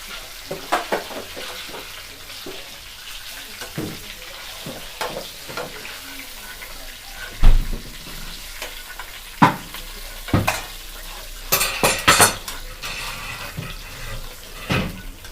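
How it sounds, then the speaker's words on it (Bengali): Pieces of shimul fish fry in hot oil with continuous sizzling. Sharp scrapes and clatters of stirring punctuate it, and no one talks. "দেখুন বন্ধুরা, আমাদের মাছটা ভাজা হয়ে গেল"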